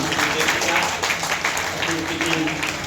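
Audience applause at a university seminar for Ambedkar Jayanti as the vice-chancellor is honoured, a dense steady patter of clapping running throughout with voices mixed in underneath.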